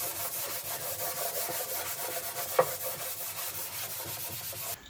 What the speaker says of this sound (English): then I'm going to sand it down with like 220